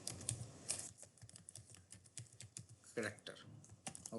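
Quick bursts of clicky keystrokes on a computer keyboard as C++ code is typed, irregular taps with louder key hits mixed in, heard close under someone talking.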